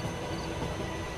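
A moving train rumbles through the dark, a dense, even roar of rolling wheels and carriage noise, steady and unbroken in a short cartoon sound effect.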